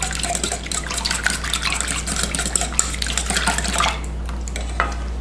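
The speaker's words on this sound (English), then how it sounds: "Add them into your milk butter mixture. Give it another stir." A milk and butter mixture is stirred in a bowl, with quick clinking and scraping of a utensil against the bowl and a wet, sloshing texture, over a low steady hum.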